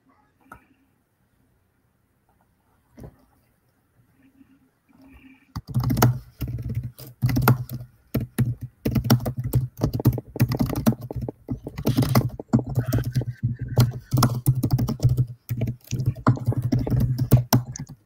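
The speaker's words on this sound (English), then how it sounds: "Is that Seb just destroying his keyboard?" A computer keyboard is hammered hard during a comic convention livestream. After a few seconds of near silence with a stray click, rapid, loud, continuous key clatter takes over and carries on to the end.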